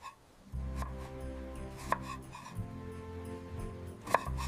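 Paneer being chopped into small pieces on a toy kitchen board, a few distinct knife taps standing out over a steady low background hum.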